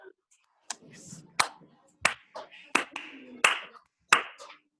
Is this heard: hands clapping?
yes